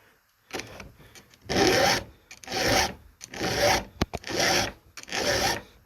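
A file rasps across a brand new chainsaw chain in five distinct strokes with short pauses between them, close and fairly loud.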